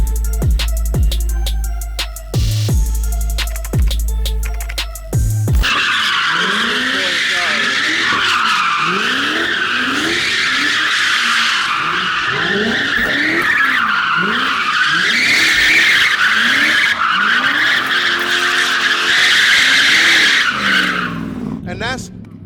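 A deep LS V8 in a Nissan Skyline R34 revs hard several times, then settles into a loud, continuous roar with squealing tires and repeated sweeping rises in pitch, with voices over it.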